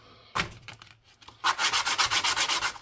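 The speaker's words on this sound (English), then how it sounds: "Now we just want to sand the edge, make sure it's nice and clean," The edge of a ring made from a 100 dirhams coin is sanded, with a first short pass, then about a dozen quick, rhythmic rasping strokes up close and loud, with no talk.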